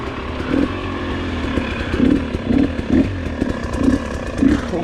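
A 2022 GasGas EC300 TPI two-stroke dirt bike idles outdoors, its steady engine note joined by several short, louder blips of the throttle.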